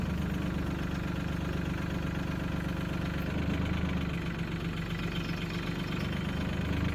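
A tractor engine idles steadily in low gear while its hydraulics lift a heavy load of about 2,000 pounds, a continuous low rumble running close and even throughout with no talk.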